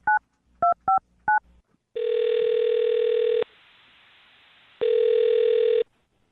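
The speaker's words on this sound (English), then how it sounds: "I'm going to dial his phone number right now" A touch-tone phone dials a number in a quick run of four short, clear beeps, followed by two long, steady ringback tones with a pause between them, loud and close.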